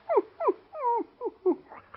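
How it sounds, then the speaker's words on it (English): A dog whimpers and whines in a quick series of about six short, high, pleading yelps, one of them longer and drawn out, close up and clear, in an old-time radio drama. "How you expect to be a high-rating dog making all that noise, huh?"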